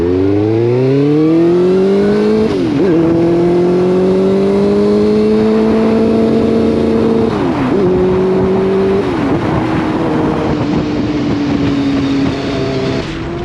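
A motorcycle engine with its valve forced open revs hard toward 16,000 RPM, a loud, continuous high-pitched whine whose pitch climbs, dips briefly several times and climbs again, close and unbroken for over thirteen seconds.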